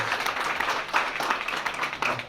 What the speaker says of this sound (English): can we get a round of applause for parents, coaches, grandparents, aunties,